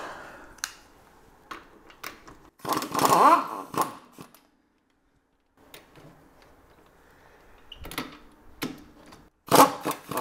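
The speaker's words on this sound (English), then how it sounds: "Unbolt the caliper." Wrench work unbolting a brake caliper on a C3 Corvette, with scattered metallic clicks and ratchet bursts separated by quiet gaps, close and fairly faint.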